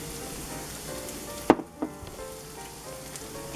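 Pasta dropped into a pot of boiling water, one sharp splash followed by a brief bubbling hiss and a second smaller knock, then quiet simmering.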